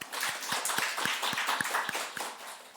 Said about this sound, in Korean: 우리 박수 한번 부탁합니다